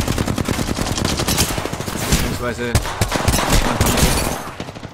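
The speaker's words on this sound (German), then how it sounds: "es war schlecht, dass ich mit der Flatline so daneben geschossen habe" Rapid Flatline assault-rifle bursts in the Apex Legends video game, loud and dense throughout alongside other gunfire and game noise, with someone talking over it.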